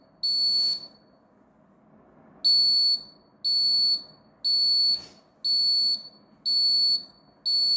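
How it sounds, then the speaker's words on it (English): Arduino-based smart pill box medicine alarm sounding shrill, piercing electronic beeps in a steady repeating pattern, loud and close against a quiet background. "it will give alarm"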